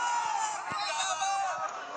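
Large crowd of thousands of investors gathered outdoors, a steady dense hubbub of many voices with scattered shouts and whoops, loud and continuous throughout.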